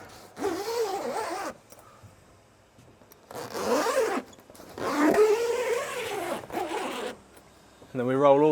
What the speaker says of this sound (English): we unzip all the way around.